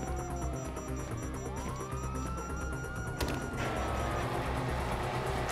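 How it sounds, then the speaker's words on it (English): Police sirens wail during a bank robbery mission in Grand Theft Auto V, rising and falling tones layered over a steady game soundtrack and engine rumble, with a sharp burst of noise midway. "You hear that? Sirens!"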